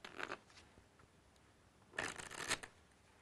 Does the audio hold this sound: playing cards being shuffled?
yes